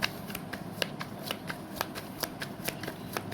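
Tarot cards riffled and shuffled by hand during a reading, a quick series of crisp flicking snaps at an even pace, close and clear with no talking.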